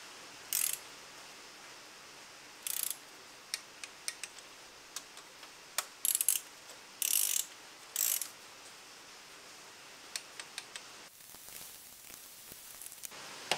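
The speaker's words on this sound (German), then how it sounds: "Und dann einmal so alle mit 10 Newtonmeter festziehen." A ratchet wrench clicks in short bursts while tightening bolts to 10 Nm on a Mazda MX5 NB engine during a timing belt change, with quiet pauses between the runs of ticks.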